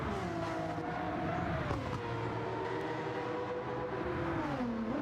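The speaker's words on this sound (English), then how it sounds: "Listen to that RX, just that rotary engine just wail." A Mazda RX rotary engine wails in Gran Turismo 7, a high, sustained buzzing tone that rises and falls through the gears on a tricky section of track, heard steadily and without talk.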